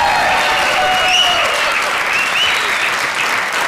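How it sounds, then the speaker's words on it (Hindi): Loud, continuous studio audience applause and cheering for the arrival of hosts on an Indian comedy talk show, a dense clapping roar holding steady throughout with faint whistles on top. "तालियों से स्वागत कीजिए"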